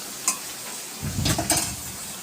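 Mutton is stirred in a hot pan while cooking down for kosha, with a steady sizzle and bursts of scraping and stirring close by, no voices.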